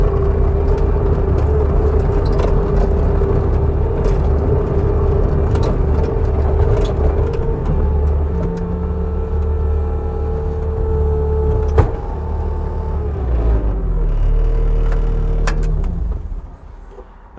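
A 2016 Bobcat T590 track loader drives and turns, its steady engine drone and track rumble loud and close throughout, easing off near the end.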